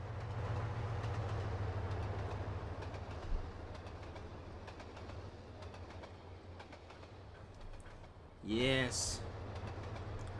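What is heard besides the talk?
train passing in flyby view, from video game Trainz Simulator 2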